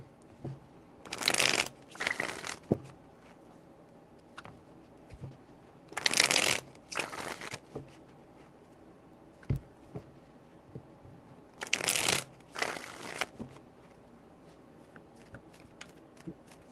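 Tarot cards being shuffled in three short bursts of riffling and snapping, close up, with quiet pauses between each round.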